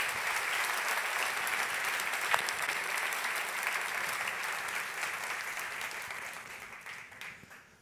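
An audience at a conference party keynote applauds a volunteer after a mentalism card trick, steady clapping heard from a distance that slowly fades out near the end.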